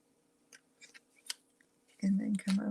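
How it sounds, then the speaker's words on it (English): Scissors cut the bottom off a paper Christmas label, giving several soft snips and then two louder, close crunching cuts near the end, with no voices. "so let me cut off the bottom"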